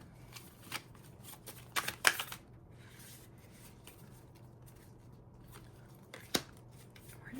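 Cards are shuffled and flipped up close in soft, papery riffles and slaps, with a busy flurry near the start and another quick snap later, then quiet rustling.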